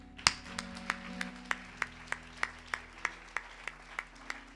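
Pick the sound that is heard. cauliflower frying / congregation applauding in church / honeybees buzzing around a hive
congregation applauding in church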